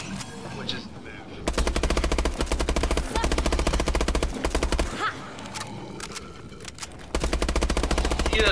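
Automatic gunfire in Call of Duty Advanced Warfare's Exo Zombies mode, loud rapid bursts that run for several seconds, break off briefly, then resume, with game sounds and players talking in between.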